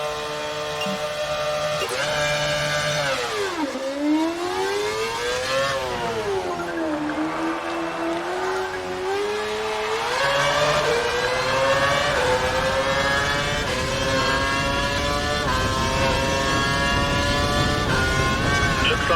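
Race car engine in the F1 2012 video game, whining high and steady, then dropping as the car slows into a hairpin before climbing through rising gear pulls as it accelerates out, loud and continuous.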